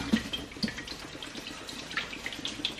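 Water splashes and trickles while a deep fryer is rinsed clean, with soft, close, irregular sloshing and drips and no voices over it.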